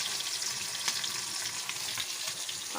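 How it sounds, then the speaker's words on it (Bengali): Rohu fish sizzles in hot oil in a pan, a dense, constant crackling hiss heard close and alone with a few faint pops. "আর এখানে ভাজা হচ্ছে রুই মাছ"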